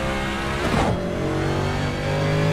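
Race car engine in the iRacing sim racing game, loud and close, a sustained high-revving whine that drops sharply on a gear change and then climbs again as the car accelerates.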